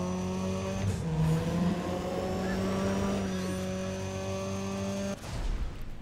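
Race car engine in a drag race in the PC game Need for Speed: ProStreet, a loud sustained droning whine holding one pitch, then breaking off with a sharp shift near the end.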